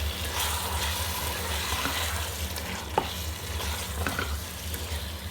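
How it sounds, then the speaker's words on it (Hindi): Biryani masala with yogurt and tomatoes fries in hot oil with a steady, close sizzle, broken by a few sharp spoon scrapes as it is stirred. "एक या 2 मिनट दही के साथ आपने इसकी भुनाई करनी है"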